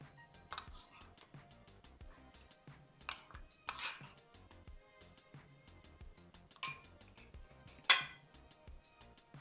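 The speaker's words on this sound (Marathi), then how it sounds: "आता आपण याचं काढून घेऊया एका बोलमध्ये." Vidarbha-style dahi mirchi, green chilies in yogurt, is spooned from a pan into a serving bowl with scattered light clinks and scrapes of a utensil against dishware, close and quiet.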